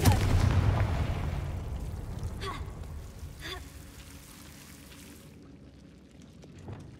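A Confringo blasting spell in the Hogwarts Legacy video game lands as a loud booming burst at the start that rumbles and fades away over several seconds, with a couple of faint after-thuds and no talk.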